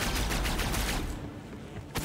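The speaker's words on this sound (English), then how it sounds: "Shoot the barrels, a lot are hidden." Gunfire in the video game Borderlands 3 as barrels are shot, a dense rapid burst of loud shots for about a second, then a short lull and another shot.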